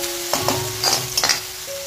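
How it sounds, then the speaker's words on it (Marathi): Onion frying in oil over medium heat, a loud close sizzle with several quick spatula stirs and scrapes against the pan. "आता मीडियम गॅसवर लालसर भाजून घेते कांदा मस्त."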